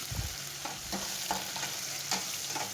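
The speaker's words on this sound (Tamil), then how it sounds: "அதையும் போட்டு எண்ணெயில் நல்லா வதக்கிடலாம்" Onion and spices sautéing in oil for mushroom biryani: a steady close sizzling hiss broken by several scraping stirs against the pan, with no one talking.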